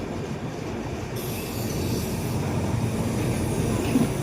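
Inside the Howrah Amritsar Mail, a 3rd AC coach rumbles steadily as it pulls into Raniganj station, with continuous wheel and track noise and a faint squeal rising near the end.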